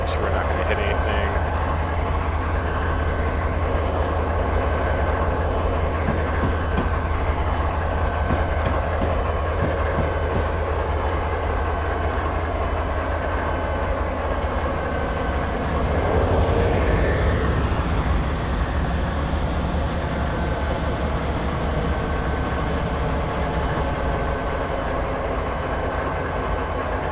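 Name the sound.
train moving in Train Simulator 2013 video game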